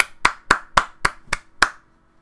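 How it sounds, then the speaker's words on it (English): Seven distinct hand claps from one or a few people at a casual show, evenly spaced and fairly close, then silence. "Round of applause."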